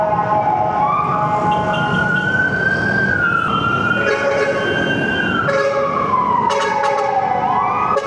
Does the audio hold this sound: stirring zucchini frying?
no